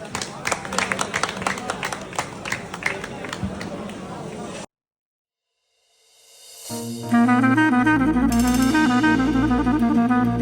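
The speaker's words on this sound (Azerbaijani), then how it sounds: "Bəyimizi alqışlayırıq." Clapping from guests greeting the groom at a wedding celebration in Mastaga, a dense patter of hands for several seconds, then a short hush before loud festive music starts.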